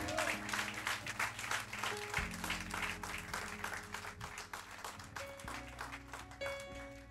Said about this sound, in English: Clap your hands and tell him thank you.